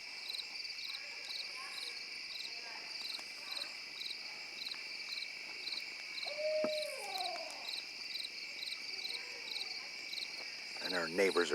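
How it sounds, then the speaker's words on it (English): An owl hoots close by at night from a treetop near a bonfire, one clear call standing out over constant loud cricket chirping, with other faint night sounds around it. "That owl is really close,"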